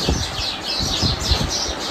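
Sparrows chirp in repeated bursts of high, busy calls, fairly close and steady throughout with a low rumble of background noise underneath.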